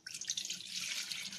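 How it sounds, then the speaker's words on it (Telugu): Water poured from a glass into a clean vessel while preparing a dish made with rice flour, a steady splashing, trickling stream lasting throughout, close and fairly quiet, with no voices. "శుభ్రమైన ఒక పాత్రను తీసుకుని దీనిలో ఒక గ్లాసు నీళ్లు"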